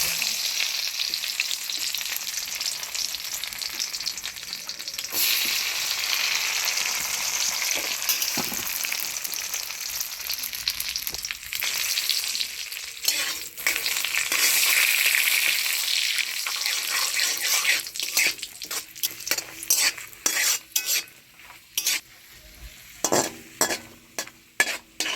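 Cashew nuts fry in ghee for fried rice, a close, bright sizzle with a spatula stirring and scraping against the pan, turning into sharp intermittent scrapes and clicks toward the end.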